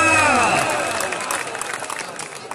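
Audience clapping and cheering at a singing contest, a dense burst of applause that fades gradually, with a singer's sustained voice sliding over it at the start.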